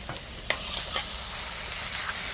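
Onions and tomatoes sizzle and fry in a pan as they caramelize, with a steady hiss, a sharp clink near the start and occasional stirring scrapes, close up and with no voices.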